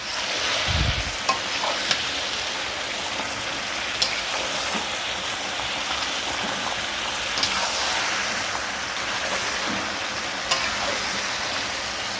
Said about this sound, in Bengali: 6 কিলো খাসির মাংস রান্না হবে, তার জন্য মশলা কষাচ্ছি।